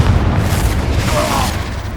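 A booming Confringo fire-spell explosion in the video game Hogwarts Legacy, a loud, sustained, rumbling blast that fills the full two seconds before easing slightly, with no speech over it.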